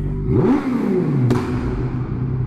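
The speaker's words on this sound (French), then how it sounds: "Le bruit des retours de flammes, c'est incroyable." A Yamaha MT-09 motorcycle engine revs up with a rising whine, followed by a sharp pop like a backfire, then a rumbling idle.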